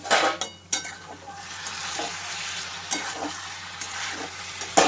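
Katla fish with new potatoes and cauliflower fries in a pan as it is stirred, giving a steady sizzle broken by louder scraping stirs near the start.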